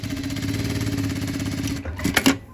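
A sewing machine runs steadily, stitching a blouse seam in a tailoring session, its rapid mechanical hum holding for nearly two seconds before stopping, followed by a few short clicks and handling noises; no one speaks.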